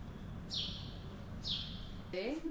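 Birds chirp outside an apartment in Thessaloniki, Greece: two bright, clear calls about a second apart, then a brief burst of warbling, heard over a steady low background hum.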